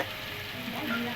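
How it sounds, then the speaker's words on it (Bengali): Sliced onions for birista, the crispy fried topping for chicken biryani, sizzle and crackle steadily in hot oil, close and continuous, with no voices over the frying. "বিরিয়ানিতে দেওয়ার জন্য বেরেস্তাটা করে নিচ্ছি, একটু লাল করে ভেজে নেব।"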